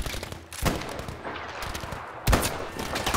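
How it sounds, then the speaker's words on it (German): Gunfire in Battlefield V rattles in dense bursts, with a loud close shot or impact near the start and another sharp blast later, over continuous rumbling battle noise. "Die schießen einfach mal gemütlich in den Rücken."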